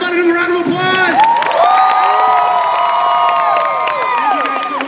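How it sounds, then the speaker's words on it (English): Convention panel audience cheering, whooping and applauding loudly and continuously, with shouts and high excited voices over steady clapping throughout. "How about another round of applause?"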